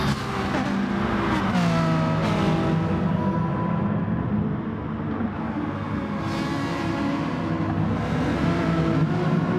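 Race cars in a sim racing league race at Sainte Croix, their engines droning and revving loud and continuous, with shifting pitch as cars rise and fall in speed and pass by, and no voices.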